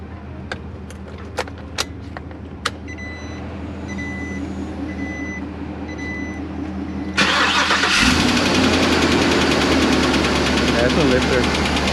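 An Isuzu engine with a knocking lifter runs steadily with a ticking, rhythmic tap, a few sharp clicks at the start and a louder, broader roar swelling in after the midpoint, with people talking near the end.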